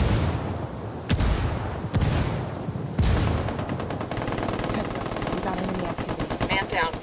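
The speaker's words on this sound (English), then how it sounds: "Hostiles are going loud. Under heavy fire." Dense gunfire in the video game Ghost War, Team Supremacy mode: loud sharp shots and rapid automatic bursts over a continuous battle din, with a voice speaking partly underneath.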